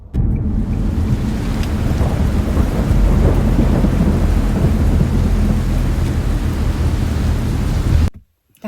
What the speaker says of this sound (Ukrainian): Так, дощ майже закінчився